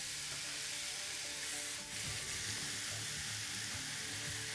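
Ham and hash browns sizzle on a Ninja Foodi Smart XL Pro electric griddle, making a soft, even frying hiss with light crackles and a brief scrape midway, fairly quiet and unbroken by speech.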